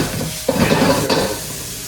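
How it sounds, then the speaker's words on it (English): Meat sizzles in a hot pan for a bison calzone, a steady loud hiss with a couple of sharp clatters as it is stirred and pushed around, close up and without talk. "Make sure it sizzles."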